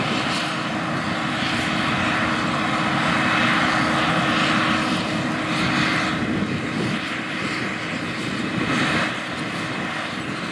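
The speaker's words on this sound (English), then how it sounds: "These big 550 horsepower machines with 410 bushel tanks harvest the crop and spread the remaining residue back on the field." Big 550-horsepower combine harvesters with 410-bushel grain tanks working through a double-crop soybean field, a loud, steady mechanical roar with a broad droning engine tone that holds constant throughout with no talk.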